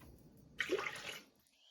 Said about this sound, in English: Next, I have a half a cup of water.